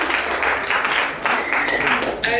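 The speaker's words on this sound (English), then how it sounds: "Round of applause." Short burst of audience applause at a real estate mentorship cohort launch, fairly loud clapping in uneven waves with a voice faintly under it.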